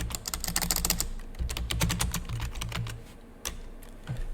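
Rapid keystrokes on a computer keyboard, typing a short search term in quick bursts with a brief pause near the end, close and clear with no talking.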